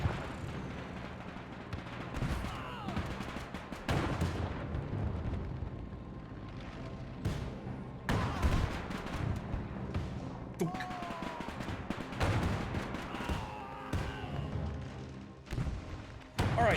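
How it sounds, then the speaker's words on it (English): Pack mortars firing in the video game Men of War II, with repeated sharp booming launches and impacts at irregular intervals over a steady battlefield din, while someone talks throughout. "We can hit them from here, all right. Fire! Like, these are pack mortars"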